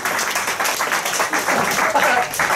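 Live audience applause at a comedy and literary festival event, a dense burst of clapping from a crowd that stays steady for a couple of seconds.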